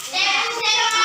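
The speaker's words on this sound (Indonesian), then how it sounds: "kita tepuk semangat dulu." Primary school pupils in a classroom at SDN 2 Jaya Bakti start a 'tepuk semangat' spirit clap, a brief burst of hand clapping mixed with children's voices, close and fairly loud.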